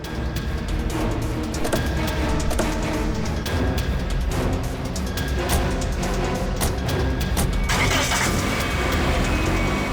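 A car engine runs steadily at close range and pulls away during a tense police chase, its drone continuous and loud with dense road noise throughout and no clear talk.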